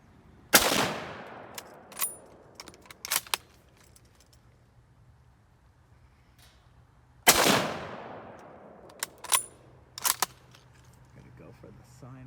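Two sharp 7.62 bolt-action rifle shots ring out outdoors, spaced several seconds apart, each with a long decaying echo, followed by fainter clicks and knocks.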